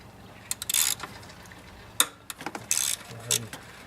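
A hand ratchet breaks loose bolts on a Ford Mustang engine while removing the oil filter housing, sounding as several short clicking bursts separated by brief pauses, close by.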